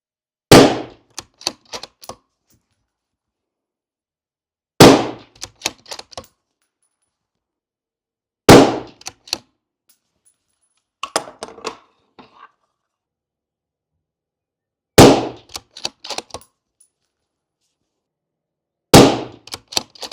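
Tikka T3x ACE Game rifle firing Hornady American Gunner match ammunition: five sharp, loud single shots spaced several seconds apart, each trailed by faint clicks and echoes, with quiet gaps between.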